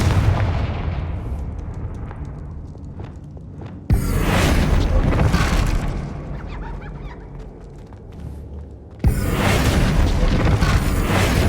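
Confringo explosion spells fire in Hogwarts Legacy on Xbox Series X, two loud booming blasts a few seconds apart, each with a sharp onset followed by a long rolling rumble that slowly decays.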